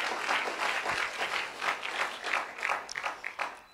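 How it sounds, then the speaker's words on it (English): A church congregation applauds during a service, giving a strong round of clapping. It comes in rolling, swelling waves, moderately quiet and slightly distant, with no speech over it. "Give a strong applause to the Lord."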